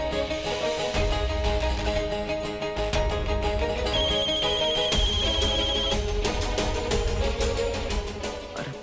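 A telephone ringtone plays steadily under a dense TV drama music bed in a Hindi serial scene, with repeating tonal beeps and a brief higher electronic tone in the middle; no voices.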